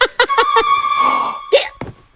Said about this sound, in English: I know just the thing to cure your hiccups.